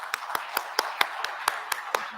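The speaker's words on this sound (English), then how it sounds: "please, a round of applause for them" Hand claps ring out at a startup pitch night at The Oberoi Gurugram, about ten sharp, evenly spaced claps in a steady rhythm, fairly close and clear, with no one speaking.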